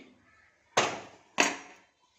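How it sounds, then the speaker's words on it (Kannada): Two sharp metallic clanks, about half a second apart, come from a cooled pressure cooker as its lid is worked open in a home kitchen, each hit ringing briefly before fading into near silence. "ಕುಕ್ಕರ್ ಮುಚ್ಚಳ ತೆಗಿತೀನಿ"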